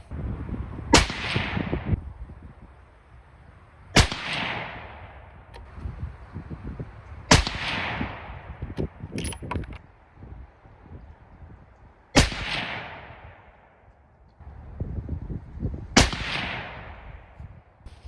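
Five loud rifle shots firing Berger 105 Hybrid bullets at a range, each a sharp crack with a rolling echo, spaced a few seconds apart with quiet between.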